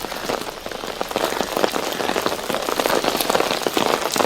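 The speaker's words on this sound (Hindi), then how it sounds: "बारिश का जो दौर है वो लगातार जारी है और कल से ही बारिश हो रही है।" Steady rain pours down at the Yamuna iron bridge in Delhi, a dense, close hiss of drops pattering on surfaces throughout, with no voices.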